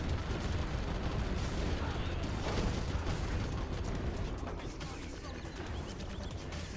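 Missiles fired from a bulldozer in a real-time strategy video game, heard as a dense rumbling barrage of launches and explosions under an excited commentator's voice.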